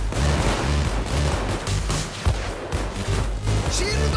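Rapid, loud bursts of automatic gunfire from the heist video game Payday 2 come in repeated volleys with short gaps, sounding close and dense, with a faint voice underneath.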